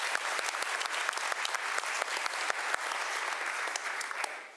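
Applause from the audience at a 2016 State of the City address, a crowd clapping with distinct sharp individual claps standing out over a steady wash, fading at the end.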